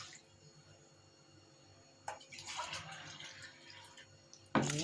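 Water or milk is poured from a measuring cup for oven-baked country rice. The pour is a short, soft splashing run that follows a quiet pause, and a sudden louder splash comes at the end.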